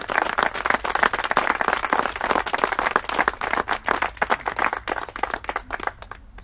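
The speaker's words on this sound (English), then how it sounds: "You have a big round of applause to these two parties." Outdoor mourners at a commemoration ceremony applaud two visiting Celtic supporters clubs, including one from Belfast, with steady moderate clapping from a modest crowd that thins slightly toward the end.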